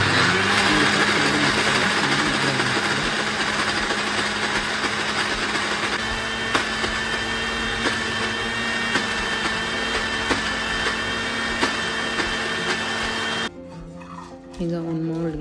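A mixer grinder blending banana and dark chocolate, a loud steady motor whine with rattling that holds, then cuts off abruptly near the end, leaving a brief quieter tail.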